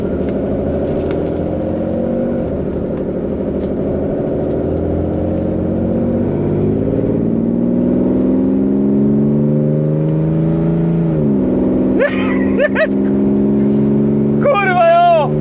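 A carbureted car engine revs up and down nearby, loud and sustained, with pitch rising and falling through several throttle blips while people talk over it.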